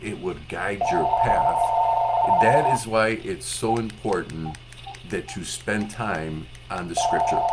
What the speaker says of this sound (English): And I apologize for the phone going off.